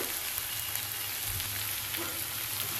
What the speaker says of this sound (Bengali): সবজিগুলো আমি একসাথে ফ্রাই করলাম কারণ তাহলে সুবিধা হবে আমার রান্না করতে